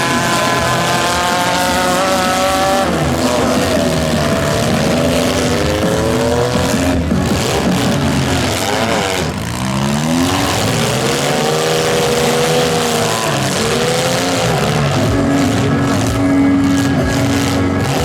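Mini car engines in a stock mini demolition derby final, loud and continuous, with revving that rises and falls and overlapping motors running together throughout.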